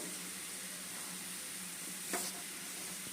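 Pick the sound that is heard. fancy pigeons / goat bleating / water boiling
water boiling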